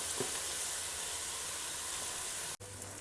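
Ginger and garlic tossed into softened frying onions give a dense, continuous sizzle close by, steady throughout before cutting off abruptly near the end; nobody speaks.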